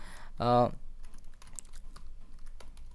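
Soft, scattered clicks of a computer keyboard while C++ code is typed, close and quiet, with a brief vocal sound near the start.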